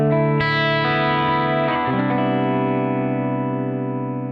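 An electric guitar chord rings out under a basic delay effect, the repeats thickening the tone; a few strums near the start, then a long sustaining, slowly decaying wash, loud and close with no talking.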